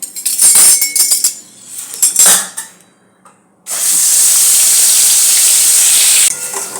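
Spinach paste goes into a hot oiled pan and hits it with a loud, bright sizzling hiss, first in uneven bursts, then as a sustained steady roar after a brief lull.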